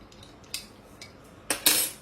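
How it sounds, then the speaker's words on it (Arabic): A utensil stirs pasta with water and a pinch of salt in a cup, giving a few sharp clinks and scrapes against the sides, ending in a brief louder scraping run. "هنقلب كويس"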